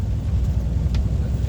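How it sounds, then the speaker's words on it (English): An oncoming car passes a truck on a Highland road in Scotland, a low close engine and road rumble heard from the cab, with a faint hiss as it goes by. "Car coming towards us."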